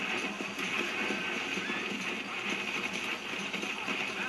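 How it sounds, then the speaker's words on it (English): A panicking horse in the video game Red Dead Redemption, with rapid hoof clip-clops and agitated movement under a steady bed of game ambience, while a person talks over it. "My horse is freaking out."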